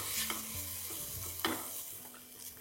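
A spoon stirs tomato and onion gravy with turmeric in a kadai for fish curry, giving a few soft scrapes over a low steady sizzle, with a low hum underneath.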